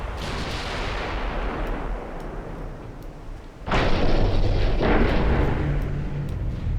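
Heavy naval guns firing at range in a 1930s British historical warfare game, a deep rumbling boom sustained for several seconds, then a second loud blast at mid-clip rolling on with long reverberation.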